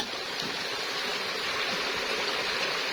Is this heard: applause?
no